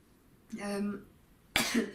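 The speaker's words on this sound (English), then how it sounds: "I just feel like I need to cough constantly just now." A short throat-clearing rumble is followed a moment later by one sharp, close cough.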